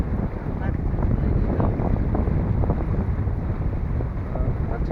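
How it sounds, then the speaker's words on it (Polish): Steady, strong wind roars across the microphone with a constant rushing texture, like gusts on open water aboard a moving sailboat. "zaczęło wiać i taki świeży, dobry wiatr"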